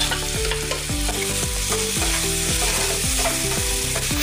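Chopped tomatoes fry with onions in a pan, giving a constant crackling sizzle beneath loud, rhythmic background music.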